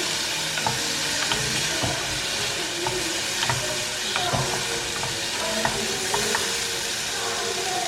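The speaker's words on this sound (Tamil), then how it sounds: "தக்காளியும் ஆட் பண்ணிடலாம். ஆட் பண்ணிவிட்டு ஒரு 2 மினிட்ஸ் இது ஃப்ரை ஆகட்டும்." Tomato frying in a pan for a quinoa bowl, a continuous sizzle with irregular stirring scrapes and soft utensil taps, close by and steady without any speech.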